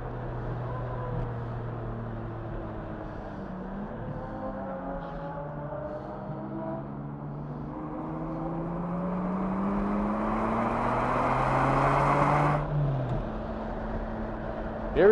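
A Ferrari Scuderia race car closes in from behind during a Ferrari Challenge session, its engine drone rising steadily and pitch sweeping as it draws nearer, heard over the steady cabin engine noise.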